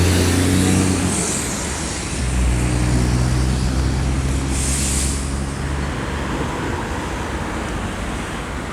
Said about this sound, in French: En plus il y a plein de voitures.